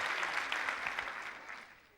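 Studio audience on a televised Popstar singing competition applauds the composer of a performed song, a faint, brief burst of many hands that thins out after about two seconds.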